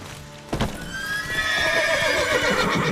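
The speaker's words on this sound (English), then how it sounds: "Come on, the horses." Horses whinny and snort in The Witcher 3 video game, a loud neigh rising after a sharp onset, with hoof clatter and restless movement continuing alongside.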